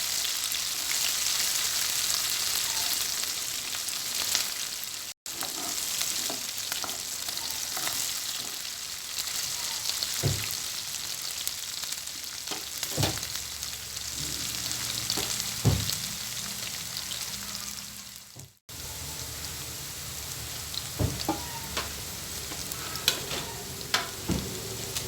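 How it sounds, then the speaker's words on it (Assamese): Mushroom, pork meat and chilli fry in a pan, giving a constant loud sizzle broken by repeated scraping stirs of a utensil, with two momentary cut-outs along the way. "আৰু জলকীয়া দিছোঁ, ভালকৈ মিলাই লৈছোঁ।"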